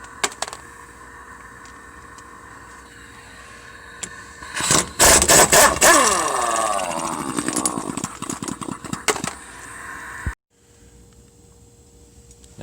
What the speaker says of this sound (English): Now we're going to take the axle nuts off so we can slide the axle out of the carrier.